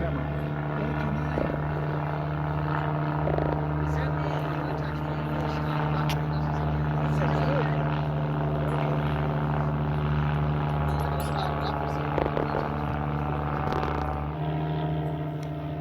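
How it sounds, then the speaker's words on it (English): A steady, loud mechanical drone with strong low tonal hum continues throughout at a cattle station fly-in in rural Australia. Scattered voices and clicks sit under it. "Drone camera."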